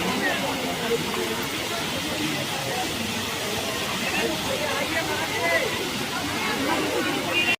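Flowing water at a Vrindavan temple plays in reverse as a steady, dense rush and hiss that stays constant and fairly loud throughout, with faint voices mixed underneath.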